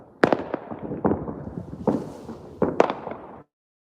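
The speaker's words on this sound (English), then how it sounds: "Fireworks are a-poppin'." Fireworks pop and crack outdoors at midnight on New Year's Eve in Texas, seen from a balcony: four or five loud, sharp bursts spaced irregularly over a few seconds, with a rumbling crackle filling the gaps.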